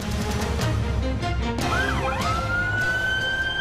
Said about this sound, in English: When you hear the sirens go by